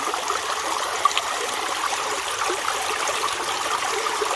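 Creek water rushing steadily through a Dream Mat gold sluice in a West Virginia stream, a continuous broadband wash with small splashes and trickles, close and moderately loud, with no voices.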